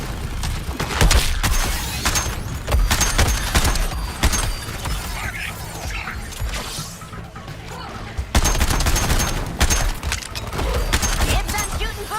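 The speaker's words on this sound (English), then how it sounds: "Dibs on shooting Boomer's target!" Gunfire in Suicide Squad: Kill the Justice League, with dense bursts of rapid shots, crashes and impacts layered loudly throughout, briefly easing midway before resuming, with voices partly mixed in.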